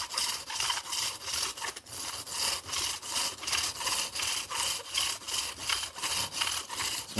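A hollow copper drill grinds against hard stone in rhythmic back-and-forth rasping strokes, about two per second, steady and close with no talking.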